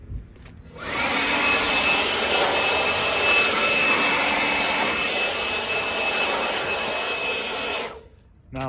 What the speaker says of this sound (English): I'm gonna blow the dust off of here now.